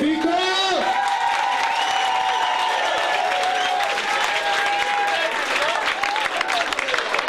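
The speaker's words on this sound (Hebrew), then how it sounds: "מחיאות כפיים לויקו!" Audience applause and cheering for Viko at a farewell party, a dense steady crowd roar with clapping and whoops lasting throughout, while a voice speaks over it.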